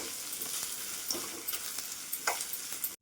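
Taro curry with salt and coriander powder frying in a pan, a soft steady sizzle broken by several scraping spatula strokes as the spices are mixed in, fairly quiet and close.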